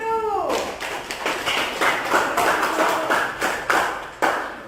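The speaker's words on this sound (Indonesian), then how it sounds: "Beri tepuk tangan untuk kelompok 1." A small class claps for a student group in a school lesson, a few distinct, uneven handclaps ringing out in a roomy space after a brief tone at the start.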